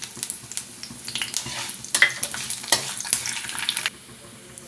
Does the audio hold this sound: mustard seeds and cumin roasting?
yes